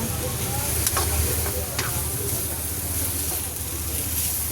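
Turmeric and chili spices fry in hot oil while being stirred, a steady close sizzle with occasional scraping strokes, moderately quiet, with faint talk in the background.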